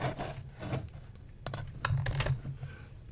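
Typing on a computer keyboard, a close flurry of light plastic key clicks in short uneven bursts, with a few sharper taps and soft rubbing between them.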